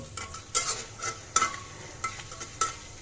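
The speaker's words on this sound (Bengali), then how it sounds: "মশলাটা গুলা ডাইলা দিই একটু কষতে থাক" Spice paste fried and stirred in a pan for a taki fish bhuna, with a steady low sizzle and repeated scraping strokes of a spoon against the pan at an even rhythm.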